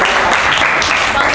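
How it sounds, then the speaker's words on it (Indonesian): An audience at a discussion session on weather and climate analysis breaks into brief, dense clapping, steady and fairly loud for about a second and a half. "Oke, tepuk tangan untuk Dava."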